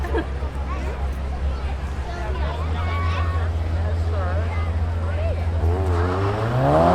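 Race cars, including a Miata and a Saab, run at Seekonk Speedway during a spectator drag and thrill show event, with a loud engine drone that rises toward the end while an announcer talks over it.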